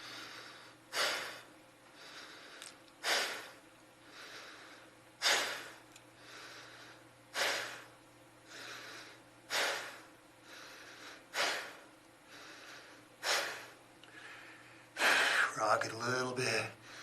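Heavy rhythmic breathing during a workout hold, forceful exhales repeating about every two seconds, close and loud, ending in a ragged longer breath.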